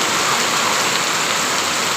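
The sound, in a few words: heavy monsoon rain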